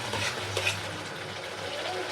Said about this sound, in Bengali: আদা রসুনের কাঁচা গন্ধটা চলে যাওয়া পর্যন্ত এটা নাড়তে হবে